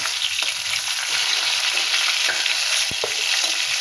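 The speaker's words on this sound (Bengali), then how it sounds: "দেখো মাছ ভাজা হয়ে গেছে" Tilapia fish crackles and sizzles steadily in hot oil, a dense close-up frying hiss with an occasional spatter, no voices.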